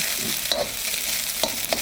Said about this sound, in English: a little bit of that frying technique on this leftover rice